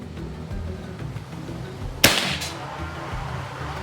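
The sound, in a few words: PCP air rifle shot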